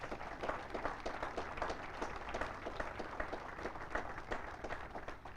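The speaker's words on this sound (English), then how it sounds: "Please give them another big round of applause" Crowd at a U.S. Army Cadet Command change of command ceremony gives a round of applause, many hands clapping steadily and somewhat distant across several seconds, with no talking.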